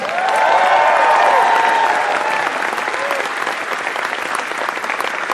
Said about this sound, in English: Everybody, a big round of applause for the 2018 e-gamer of the year, Sonic Fox.